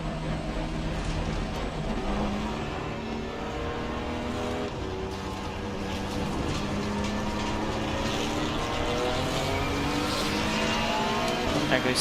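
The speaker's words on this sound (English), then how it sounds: "There goes the 111 car." A race car in the Assetto Corsa Competizione sim at Zolder drones steadily for a long stretch, its engine pitch sweeping up and down through gear changes at moderate loudness.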